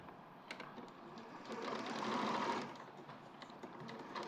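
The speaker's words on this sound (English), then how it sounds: "just quickly sew those in, but using a basting stitch" An H640 sewing machine runs a basting stitch along fabric using the foot edge as a guide, a brief close mechanical whir that swells in the middle and then eases off.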